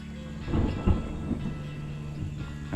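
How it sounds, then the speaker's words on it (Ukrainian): Thunder rumbling before rain during perch fishing on a shallow river: a low, rolling growl that swells and fades over a few seconds, with no voices. "Гримить, точно дощ буде."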